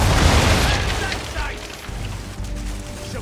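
Ship cannons fire and shells explode in an Assassin's Creed III naval battle, with a heavy booming roar fading into rumbling debris and crackle. A voice is heard over the din.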